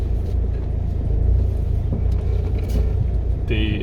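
Land Rover Freelander 1 climbing a rock step on an off-road lane, a low engine rumble under load, loud and close, with a brief voice at the start.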